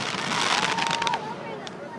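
Fireworks going off at a backyard celebration, a dense crackling burst of popping and fizzing that fades after about a second, with people shouting and talking over it.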